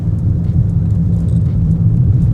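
Steady low engine rumble and road noise from inside a Volkswagen Tiguan driving on a test track at the Contidrom on Continental UltraContact UX7 tyres, constant and close, with no talking.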